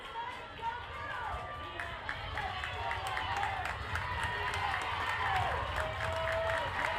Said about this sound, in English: Fans from both sides beginning to cheer on their respective players.